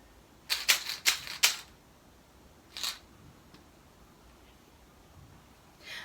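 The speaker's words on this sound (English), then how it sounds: "And the M&Ms sound like this." M&Ms candies rattled inside a homemade plastic egg shaker: a quick run of four sharp shakes, then one more after a pause, crisp and close against a quiet room.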